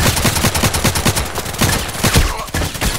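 Rapid, loud bursts of automatic gunfire in the online shooter Contract Wars, a dense rattling stream of shots with brief pauses, close and dominant.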